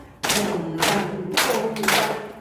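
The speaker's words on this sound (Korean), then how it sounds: "무릎 두 번, 손뼉 두번" A group of elderly people at a senior center laughter-therapy class slap their knees twice and clap their hands twice in a repeating rhythm, four crisp close bursts of mixed thuds and claps.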